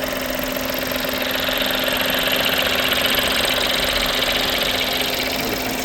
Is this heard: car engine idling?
yes